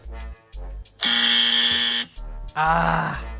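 Soundboard wrong-answer buzzer effect: two loud, harsh, droning buzzes about a second each, separated by short low thumping bursts, with no talking over it.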